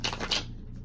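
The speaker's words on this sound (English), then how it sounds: "just gonna pull some cards for my Pisces" Tarot cards being shuffled by hand, a quick soft riffle of crisp papery flicks lasting under a second, close and fairly quiet with no talk.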